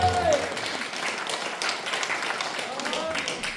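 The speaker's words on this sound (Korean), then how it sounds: "뜨거운 박수 부탁드립니다." Audience applause at a side-business seminar in Jeonju, a broadband clatter of clapping that holds steady through the clip, with voices mixed in underneath.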